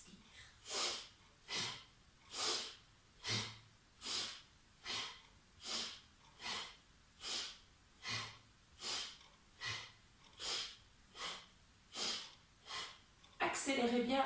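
Rhythmic breathing in and out during a shoulder warm-up exercise, with about fifteen steady, evenly spaced breaths, close and fairly loud, alone without talk.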